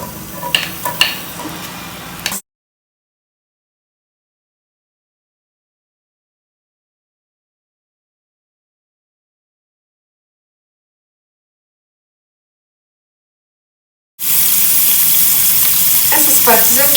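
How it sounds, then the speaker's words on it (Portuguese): Garlic and onion sauté in olive oil, a loud steady sizzle with clattering stirs, preparing a crab shell dish (casquinha de siri); the sound cuts out for a long silent gap, then returns with a bright, strong frying hiss. "Então eu vou começar aqui com o alho e a cebola"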